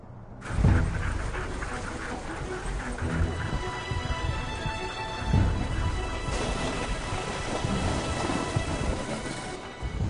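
Sled dogs panting on Arctic sea ice in Canada, a steady rough breathy texture with occasional louder gusts, fairly close and continuous throughout.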